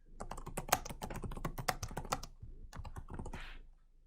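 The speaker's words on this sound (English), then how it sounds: "you would type the message" Fingers typing on a computer keyboard close by, a quick uneven run of crisp key clicks with a short pause before a final few presses.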